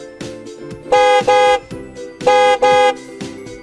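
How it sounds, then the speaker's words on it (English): A car horn honks outside near a balcony in long, loud blasts: a pattern of short toots followed by two sustained pairs of honks, with brief gaps between them and no talk. "I hear the honk."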